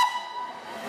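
A vintage train running on a heritage line, heard on board as a steady rumbling hum with a brief whistle-like tone near the start, moderately loud and continuous without talk.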